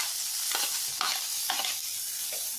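Green onion and carrot stir-fried in a pan for spinach soup, a steady loud sizzle with rhythmic scraping strokes of a spatula about every half second, no talking.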